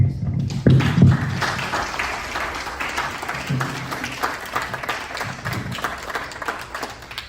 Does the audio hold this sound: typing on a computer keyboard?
no